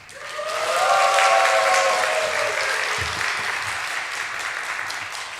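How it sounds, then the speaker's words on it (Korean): A church congregation applauds and cheers to welcome a guest pastor: dense clapping swells within the first second, with whistle-like tones early, then holds steady and slowly thins over five seconds. "환호를 하면서 소개합니다."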